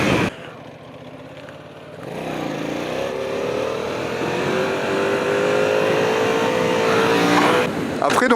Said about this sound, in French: une fois que je lâche, j'accélère un peu plus